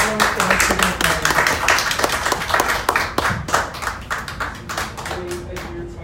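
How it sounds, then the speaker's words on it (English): A room at a signing ceremony between AirAsia and the Federation of Indian Chamber of Commerce gives a warm round of applause, steady close clapping that thins out toward the end. "a warm round of applause to our signatories"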